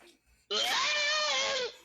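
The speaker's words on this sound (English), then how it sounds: "that calls for a Wilhelm scream" The Wilhelm scream sound effect, a stock dying-stormtrooper cry from the Star Wars films: one sharp, wavering male scream of about a second, loud and alone after a brief quiet.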